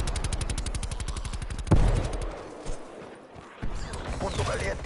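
Gunfire in the video game Call of Duty Cold War: a rapid automatic burst, then a heavy blast and scattered shots trailing into rumbling, all loud and close.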